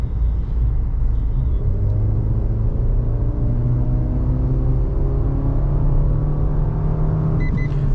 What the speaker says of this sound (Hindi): सी अभी मैं पिकअप लूँगा हार्ड एक्सेलेरेशन करके।